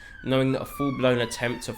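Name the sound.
sirens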